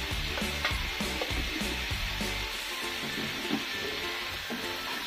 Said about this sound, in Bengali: এবার মশলাগুলো ভালোভাবে কষিয়ে নেব